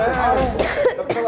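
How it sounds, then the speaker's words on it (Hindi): A person coughs a few short harsh times at close range, mixed with voices talking around them. "कल रात से इसे खांसी हो रही है"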